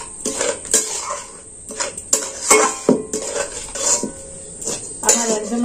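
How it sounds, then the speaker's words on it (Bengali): A spoon scrapes and clinks against a metal pot while semolina cooked with milk is stirred, in repeated close strokes with soft thick bubbling between them. "এবার এটাকে আমি নাড়াচাড়া করে নেব, দিয়ে এটা একটা দইয়ের মতো তৈরি করে নেব।"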